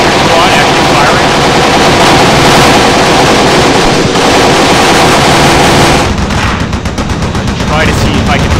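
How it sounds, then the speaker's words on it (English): An infantry squad fires in the Graviteam Tactics war game, with dense, continuous machine-gun and rifle fire rattling loud and close. Sharp bursts overlap throughout and never pause. "Got this infantry squad actually firing."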